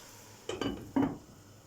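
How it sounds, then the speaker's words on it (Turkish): Spinach is stirred in a pan for a Turkish egg and spinach sauté, giving three quick scraping clinks of a utensil against the pan in the middle of an otherwise quiet, faint moment. "O zaman karıştıracağım arkadaşlar"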